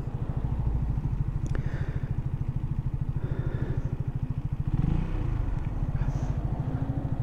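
Several motorbikes idle and rev steadily close by, a continuous rhythmic engine chug with a brief swell in loudness near the middle, running alone without talk.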